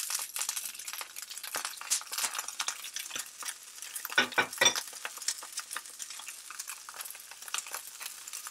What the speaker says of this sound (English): So you can hear it sizzling there.